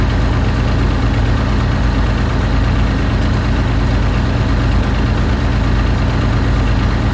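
A BMP infantry fighting vehicle engine idles with its heater running, steady, loud and low-pitched without a break, a constant rumble with broadband mechanical hiss layered on top.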